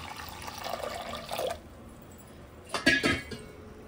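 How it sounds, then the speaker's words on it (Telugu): Water poured into a pressure cooker holding washed lentils for mango dal, a splashing stream for about a second and a half, a pause, then another brief louder pour. "ఇప్పుడైతే మనం పప్పుకు సరిపడ వాటర్ పోస్తున్నాము"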